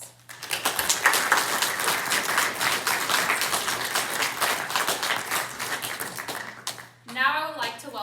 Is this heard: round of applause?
yes